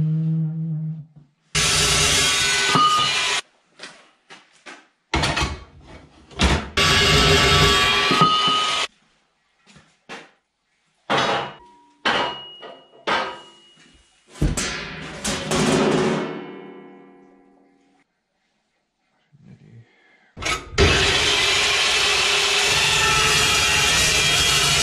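Power saw cutting metal for a dump trailer bed, loud bursts of cutting separated by abrupt stops and silences, with several short grinding passes in the middle and longer sustained cuts at the start and end.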